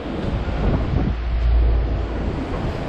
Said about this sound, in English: raining and windy now